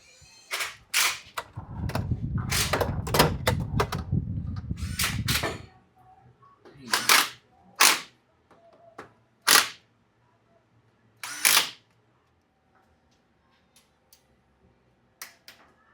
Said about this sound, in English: we're going to put a torque wrench on them at 115 inch-pounds just to verify that everything is right.